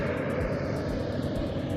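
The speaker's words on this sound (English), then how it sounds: "As you can hear the trucks going by," Steady, loud low rumble of trucks climbing a mountain grade at Montgomery Pass, a continuous engine drone passing close by with no talking.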